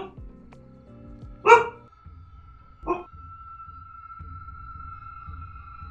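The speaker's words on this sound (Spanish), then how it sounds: "está mirando a una esquina de la habitación y está ladrando" A dog indoors gives two short, separate barks a second or so apart, fairly close in a quiet room with a steady electronic hum behind.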